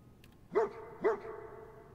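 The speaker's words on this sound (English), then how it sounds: "Yeah, good dog." A dog in the video game Fallout 4 barks twice, two sharp close barks about half a second apart over quiet game ambience.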